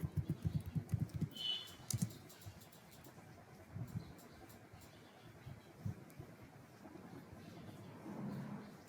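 Typing on a computer keyboard while entering a username and password to log in to dispatch software, a run of quick clustered keystrokes at the start and scattered taps after, under a low room hum.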